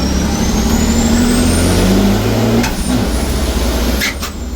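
A 1200bhp racing truck engine drones loudly through a corner at Pembrey circuit, a heavy steady roar with a fluctuating pitch that eases slightly near the end.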